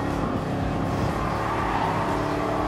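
A 1970 De Tomaso Pantera sports car engine in Gran Turismo Sport, a steady, loud, continuous low-pitched roar held throughout with no clear gaps.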